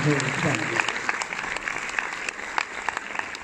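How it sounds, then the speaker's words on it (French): Scattered applause from a cinema audience at a film preview in Orléans, fairly soft and uneven claps, with a voice speaking over it at the start. "sous vos applaudissements"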